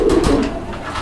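Fancy pigeons kept for sale give a short, close, soft throaty coo, heard on its own for about a second.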